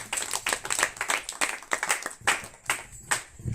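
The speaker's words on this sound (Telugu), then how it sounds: "చప్పట్లు పట్టండి మా పాపకి" An audience at an evening worship gathering claps for a young girl, a loose rhythmic patter of hands with distinct individual claps, close and moderately loud, rising and falling in bursts.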